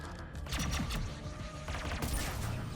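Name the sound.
shotgun fire in the video game Mass Effect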